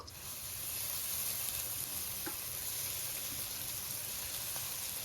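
Ginger garlic paste fries with onions in an electric cooking pot, giving a continuous, even sizzling hiss that stays close and moderately quiet, with a couple of faint clicks.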